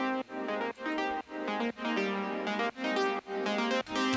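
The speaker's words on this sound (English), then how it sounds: "I've layered this arp in the second part with a repro synth." A synth arpeggio layered with a Repro synth pulses in evenly spaced rhythmic chords, bright harmonic notes repeating in short gated bursts, loud and alone without voices.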